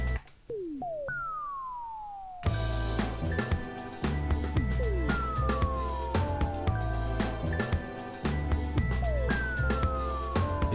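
A kitsch disco siren effect from a Korg Mini KP 2S effects unit sweeps down in repeated whooping glides, first alone and then over a loud looping beat with pulsing bass and percussive hits.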